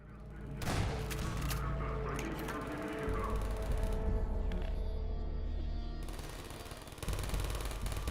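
Automated turrets open up on charging antlions in Half-Life 2, laying down dense, sustained machine-gun fire that runs nearly the whole time, with short lulls around the middle and near the end.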